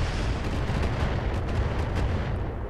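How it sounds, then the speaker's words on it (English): Mortar fire in the video game RogueTech BattleTech, a dense, continuous rumble of booming blasts with heavy low-end roar, loud and unbroken throughout. "What are you using? Mortars or..."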